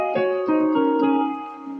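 Notes from a Hyper Keyboard 10 with the zeta reverb effect switched on, several soft attacks blurring into a long ringing wash that slowly fades, close-miked and without speech.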